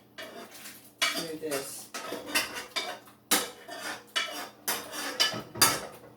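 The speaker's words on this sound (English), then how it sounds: "I'm going to continue to stir that around in there." Celery and onion stirred with a metal spoon in a soup pot for potato soup, a series of scraping, clinking strokes against the pot arriving in bursts about once a second, with a few quiet spoken words at one point.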